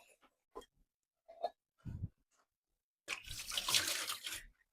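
A little water trickles briefly, sounding like a small pour from a tap or container, in a home kitchen setting, with short faint rustles and handling noises before it.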